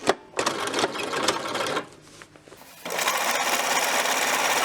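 A sewing machine stitches elastic shirring rows across a dress, its motor running in steady fast bursts with a brief slower pause in the middle, close and alone with no talking.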